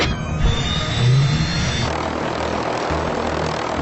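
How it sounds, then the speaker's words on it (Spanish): Unused engine sound made for the Hunter attack helicopter in a GTA video game: a loud, steady mechanical roar with a brief swell near the start, heard alone with no talk. "hoy en exclusiva os voy a enseñar cómo iba a ser el sonido que tendría el Hunter de haber sido incluido"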